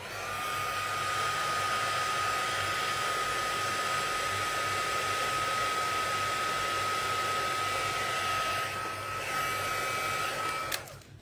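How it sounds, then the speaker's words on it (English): Steady whirring blast of a heat tool drying pink watercolor paint on a bloom, a continuous loud hum with a fixed whine running for about eleven seconds before cutting off abruptly. "I'm gonna get my heat tool out for this pink bloom because doesn't have as much pigment"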